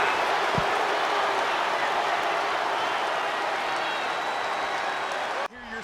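A loud, dense crowd roars continuously in a WWE 2K20 wrestling video game match, cheering and clapping throughout before the noise briefly drops at the end.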